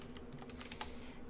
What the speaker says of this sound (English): And if you guys hear typing in the background, Daniel's on his computer